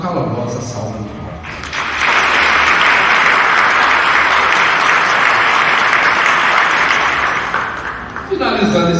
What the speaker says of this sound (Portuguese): o saudemos com uma calorosa salva de palmas